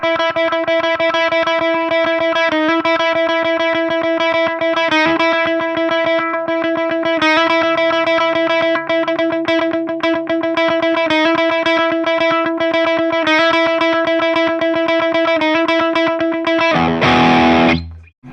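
Distorted electric guitar plays a chugging power-chord rhythm, loud and steady with regular accents, no voices, ending in a brief burst of strummed noise.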